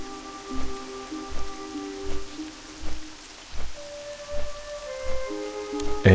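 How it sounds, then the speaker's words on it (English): Steady rain hisses over South Shore in World of Warcraft, with regular soft thuds pacing beneath it and faint sustained game tones in the background. "Apparently it's going to be a rainy day in South Shore."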